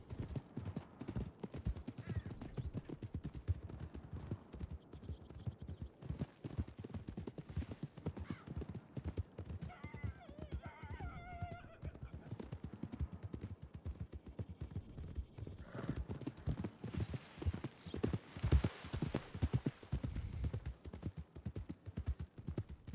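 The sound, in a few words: horse hooves clip-clopping in a video game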